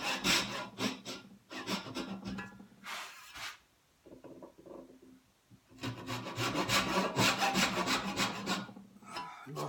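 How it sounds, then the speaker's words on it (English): A Wenzloff dovetail saw cuts wood for an apothecary chest, rasping in quick close back-and-forth strokes, pausing briefly before resuming steadily. "And that one saws right against the tape."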